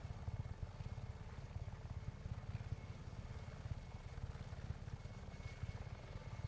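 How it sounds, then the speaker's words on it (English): A helicopter in the game Just Cause 3 thuds steadily with rapid rotor chop, a faint and constant beat, as if the chopper is approaching from a distance, with no voices over it. "Be advised that chopper support is approaching your location"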